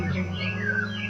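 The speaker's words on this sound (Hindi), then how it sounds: "देख चिड़िया बोल रही है" Small birds chirp in trees in a wooded area, a few thin rising and falling tweets over a faint low hum, fairly close and unaccompanied by talk.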